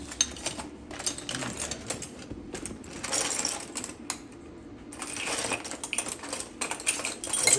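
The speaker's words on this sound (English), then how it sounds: "So, to put on the spindle, we have two little wrenches." Small metal wrenches clink and ratchet while a spindle is fitted onto a CNC 6040 machine during a workshop lesson, giving repeated close mechanical clicks and rattles in uneven bursts with no talking.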